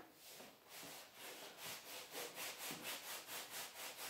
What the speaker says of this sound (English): And I'm going to rub with my hands. I'm going to apply a little pressure.